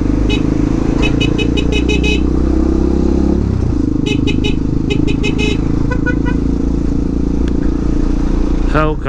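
Several short car horn honks sound in quick succession over steady, loud traffic and engine noise on a jammed Presidente Dutra highway, with a final horn blast at the end.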